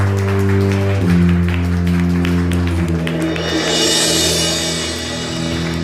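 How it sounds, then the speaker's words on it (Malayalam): Audience applause rises as an award is presented at a Malayalam Mappilappattu stage show, a loud sustained clapping wash over lingering musical tones that swells toward the end. "ഒരിക്കൽ കൂടി സ്നേഹം നിറഞ്ഞ കൈയടി കൊടുത്തുകൊണ്ട് നമുക്ക് അവാർഡ് നൽകാം"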